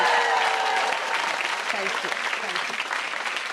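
Sustained audience applause fills the space, dense and steady throughout, with a voice briefly speaking over it.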